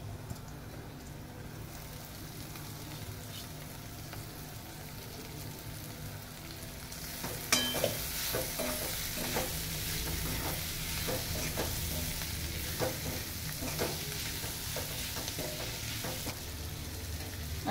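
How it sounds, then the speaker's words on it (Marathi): Cooked bitter gourd stir-fried in a kadai for karlyachi bhaji, with a steady soft sizzle and clustered stirring scrapes that grow louder after a quiet start. "शिजवलेले कारले आता मी टाकते कढईत"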